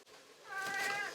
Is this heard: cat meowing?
yes